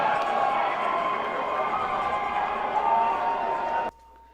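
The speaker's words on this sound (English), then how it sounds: "So you can really hear the crowd right there coming in." A football crowd roars after a Section VI Class C championship win, a broad, sustained wash of cheering and shouting that holds steady, then cuts off abruptly near the end to near silence with a faint tone.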